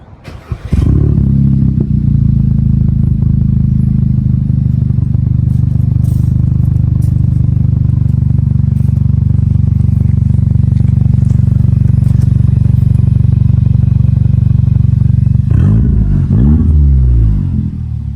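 A car engine warm-starts and then holds a loud, steady rumble with revving, a near and continuous drone running almost the whole length before a brief shift and settling at the end.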